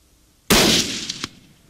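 A single loud rifle shot cracks out on a hunting estate in South Africa, close and sudden, its blast rolling into a decaying echo with a faint second report.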